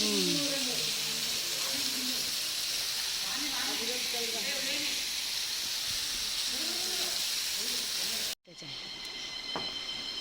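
Water rushes steadily at Cherrapunji, a dense, loud broadband roar that holds evenly for about eight seconds, drops out for a brief moment, then returns somewhat quieter.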